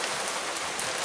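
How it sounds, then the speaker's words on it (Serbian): Heavy rain pours steadily during a storm in Vranic, a dense, loud, continuous hiss with no pauses and no voices. "Jaka kiša, dobro je da snimam sad odavde."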